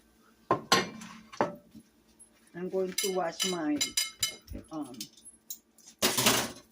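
A metal frying pan clanks and scrapes in a sink with running water as it is washed, while a person talks intermittently nearby.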